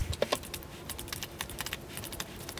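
A cucumber is peeled by hand for tzatziki, giving a run of quiet, irregular scraping clicks and taps close by, with no talking.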